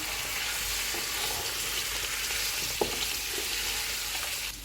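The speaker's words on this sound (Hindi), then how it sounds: "चिकन डाल देंगे। इनको 2 से 3 मिनट तक भूनेंगे।" Chicken pieces frying in oil with ginger-garlic paste for a chicken yakhni pulao, a steady close sizzle with one brief sharp crackle or clink partway through, no voices.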